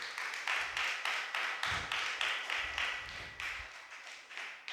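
A church congregation at a Tamil Christmas Mass clapping together in a steady, rhythmic beat, many hands striking in unison at a brisk, regular pace for several seconds, moderately loud with no speech over it.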